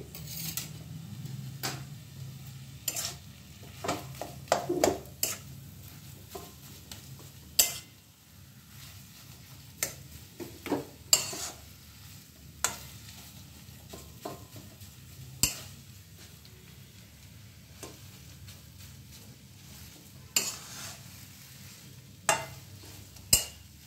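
Potato and chicken stuffing for paratha is stirred through spices in a pan over raised heat, with repeated sharp scrapes and clinks of the spoon against the pan over a soft, steady sizzle, and no talking.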